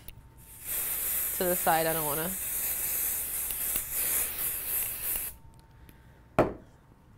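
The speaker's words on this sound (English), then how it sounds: "I'm going to just quickly spray off" A steady, loud hiss of spray adhesive onto embroidery backing for about five seconds while a person briefly speaks, then stops, followed by a single sharp knock.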